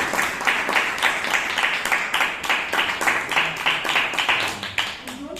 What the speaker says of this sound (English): May I request you to please give him a big round of applause